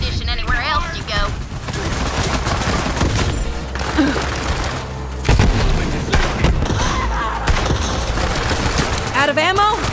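Rapid gunfire and booming explosions fill a firefight in the video game Borderlands 3, dense and loud throughout, with game character voices shouting in between.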